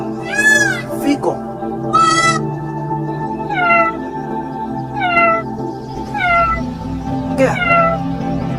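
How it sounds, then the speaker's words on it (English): A cat meows repeatedly, about seven clear, close mews with pauses between them, over a low steady background hum. "Cat."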